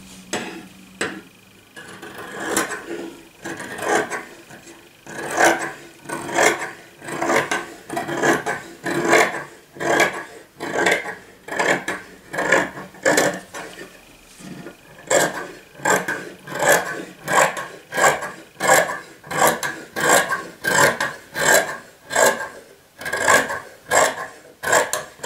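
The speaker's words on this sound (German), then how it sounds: "Und das schneide ich mir dann einmal aus." Fabric for a zippered cushion cover, 40 by 40 cm, is cut out with scissors or a cutter, giving a close series of regular rasping snips and strokes, loud and rhythmic, with no talk.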